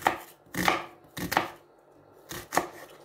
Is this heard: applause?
no